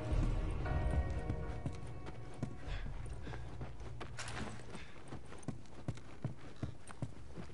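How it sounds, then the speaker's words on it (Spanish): Horse hooves clip-clop in a steady, close rhythm in The Last of Us Remastered on PS4, over a low game ambience without voices. "Vamos con los caballos."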